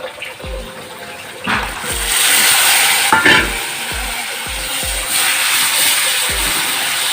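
Tomatoes and spices frying in a pan, a loud continuous sizzle broken by repeated sharp scraping knocks of a spoon stirring against the pan at an irregular pace.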